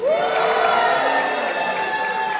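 An audience crowd yells and cheers in reply at a Fraggle Rock holiday event at Kennedy Space Center, a loud, continuous roar of mixed adult and children's voices lasting the whole moment.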